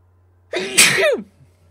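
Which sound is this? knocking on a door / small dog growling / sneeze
sneeze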